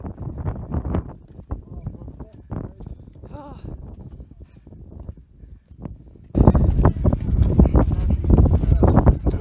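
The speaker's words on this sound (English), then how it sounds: "it's windy as fuck, mate." Strong wind buffeting the microphone on the exposed hilltop moorland of Rivington Pike, loud rumbling gusts that surge and drop, growing much harsher in the final few seconds, with people talking at times.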